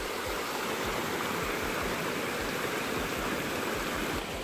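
A river flows nearby in a continuous, fairly faint rush of water, with no voices.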